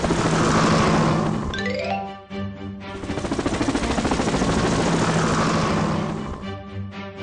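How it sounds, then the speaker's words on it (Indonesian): Cartoon helicopter lifting off in a children's firefighter animation, a loud, steady whirring rotor noise that holds for several seconds with a rising whistle partway through, then fades near the end. "Helikopter, berangkat."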